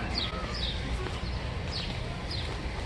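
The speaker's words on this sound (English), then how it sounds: "I hear birds in here," A few small birds chirp in short, high bursts inside a Costco store in Mexico, over a steady background hum, sounding somewhat distant.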